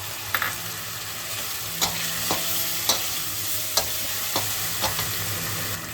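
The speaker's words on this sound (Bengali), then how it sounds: "হলুদ আর কাশ্মীরি লঙ্কার গুঁড়ো দিয়ে দিলাম আর টমেটো দিয়ে দিলাম।" Turmeric, Kashmiri chili powder and tomato fry in a pan with a steady sizzle, broken by sharp scrapes and knocks of a spoon stirring at irregular intervals, close and fairly loud.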